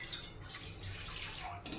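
Water poured from a glass into a pot on a gas stove while making sweet potato kakara pitha, a steady close splashing pour that runs without a break.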